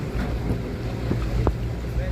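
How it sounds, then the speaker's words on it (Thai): A ferry pulling in to shore at Hervey Bay rumbles low and steady, under wind buffeting the microphone, with a few brief knocks and faint voices in the background. "เรือเฟอร์รี่กำลังเข้าฝั่ง"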